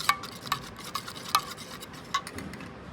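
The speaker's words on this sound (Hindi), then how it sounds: "इसको अच्छी तरह मिक्स कर लें।" A spoon stirring a homemade hair protein mask in a bowl, giving sharp intermittent clinks and taps against the container at an irregular pace, close and fairly quiet with no voices.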